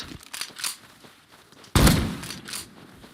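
A pump shotgun fires once in an online multiplayer shooter, a sharp loud blast with a short decaying tail, preceded by faint game clatter and footstep-like thuds.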